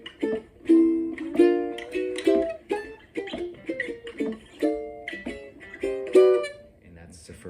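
Jazz chord melody on ukulele, rhythmic strummed chords with the melody on top, about a dozen plucked attacks in a relaxed phrase, played close and alone.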